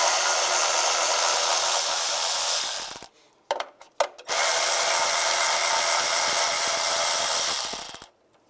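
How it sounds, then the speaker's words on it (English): A power tool with a 10mm socket whirs steadily while removing plate bolts on a Chevrolet Silverado, stopping briefly for a couple of short clicks and bursts before running again at close range, then cutting off. "Now we're going to take this plate off, use a 10mm socket,"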